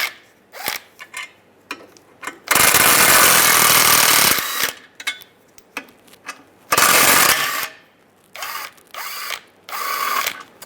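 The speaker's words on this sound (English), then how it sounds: "Using a 13mm socket, take these three bolts out." Power tool with a 13mm socket removing three bolts from the front suspension of a 1998-2010 Volkswagen Beetle during a lower ball joint replacement, two loud sustained bursts of rattling impact with shorter clicks and clatter between them.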